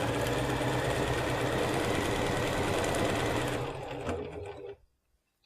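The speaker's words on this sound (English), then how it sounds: "Okay, so now I'm just gonna sew the first." Sewing machine stitching quilt pieces for flying geese blocks, a loud continuous motor whir with rapid needle rhythm close by, slowing and stopping near the end.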